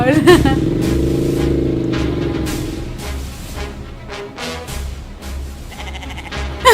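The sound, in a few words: goat bleating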